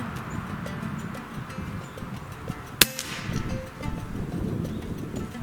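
A single sharp crack from an Air Venturi Avenger laminate wood PCP air rifle firing a pellet, standing out sharply against outdoor ambient noise with birds or insects faintly around it.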